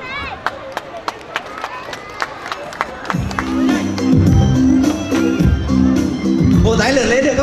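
Christmas carol concert audience clapping along in a steady beat to festive music from about three seconds on, loud and close, with singing and crowd noise mixed in; before that, scattered sharp claps over background chatter.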